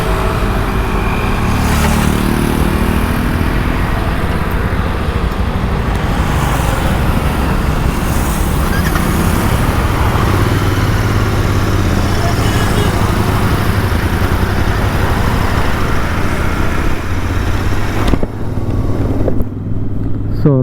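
A Hero XPulse 200 motorcycle sets off on a dirt-track ride, its engine droning loudly and steadily under heavy wind and road rumble for about twenty seconds. A voice comes through faintly at times.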